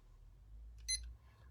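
A kettle gives a single short, high electronic beep, faint and brief in an otherwise quiet kitchen with a low hum underneath.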